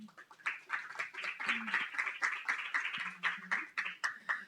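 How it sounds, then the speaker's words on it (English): An audience at a panel event on vulnerable populations during a pandemic claps steadily for several seconds, a dense, moderately loud patter of many hands with no voices over it. "So please give them a round of applause."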